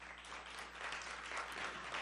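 Brief, faint applause from an audience at a student association address, a soft continuous patter of clapping heard from a distance with no voices.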